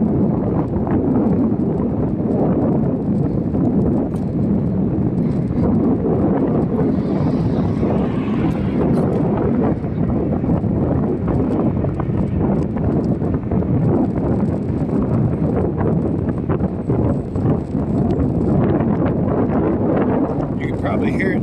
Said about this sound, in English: it's really a headwind right now, pushing me backwards